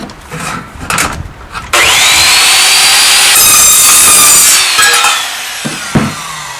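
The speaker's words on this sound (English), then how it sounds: "So we'll go ahead and cut the aluminum now." A Rage Evolution saw cutting aluminum: some handling noise at first, then a loud, sustained high whine as the blade bites through the metal for a few seconds, fading into clatter and brief knocks.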